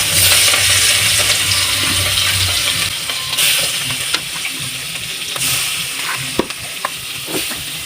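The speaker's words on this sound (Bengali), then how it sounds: "ফার্স্টে ইলিশ মাছ ভেজে নিতেছি।" Hilsa fish frying in hot oil in a home kitchen, a steady close crackling sizzle with occasional sharp spatters and utensil clinks, no voices.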